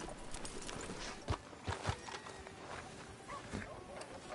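Horse hooves clip-clop in the Red Dead video game as a rider pulls up outside a sheriff's office, a steady close clopping with a few sharper strikes along the way.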